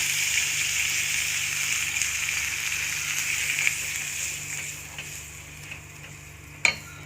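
Ground paste of coconut, dried red chillies and shallots is poured into a cooking pot, giving a hissing, sizzling wash of sound that fades toward the end, followed by a sharp clink.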